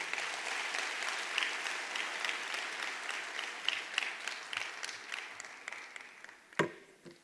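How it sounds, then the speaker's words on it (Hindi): Audience applause at a network marketing seminar, with many hands clapping in a continuous, moderately loud patter that tapers off near the end after a sharp thump. "जोरदार तालियां होनी चाहिए सर के लिए"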